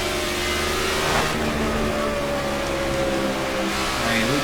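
Loud NASCAR '14 video game race car engines drone steadily at high revs throughout, one car's pitch shifting as it heads down pit road during a Quicken Loans 400 race.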